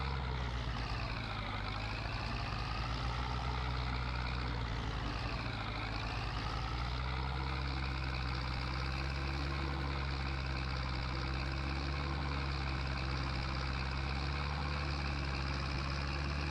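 A slow tractor engine in the Farming Simulator 22 video game drones steadily throughout, with a couple of brief rises and falls in pitch early on before settling into an even, continuous hum.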